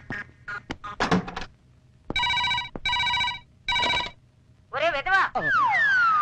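A telephone rings in a film scene with repeated electronic ring bursts separated by short gaps, followed by a warbling ringtone, loud and close.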